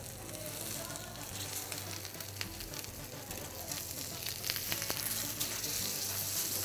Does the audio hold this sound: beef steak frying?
yes